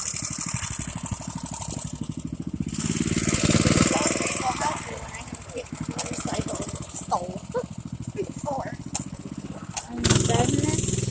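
A dirt bike engine putters and revs in an uneven, close, buzzing drone while being ridden, with a brief surge near the end. People talk over it at intervals.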